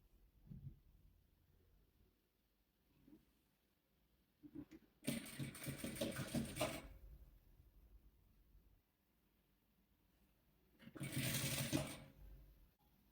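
A sewing machine stitching fabric patches together for a patchwork quilt, running in two separate bursts of steady rapid stitching with quiet handling sounds between them.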